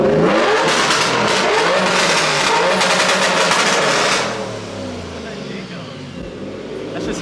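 A single-turbo Nissan S15 with an HR engine swap revs hard on a dyno, a loud sustained roar that fills most of the clip before easing off, with voices talking over it.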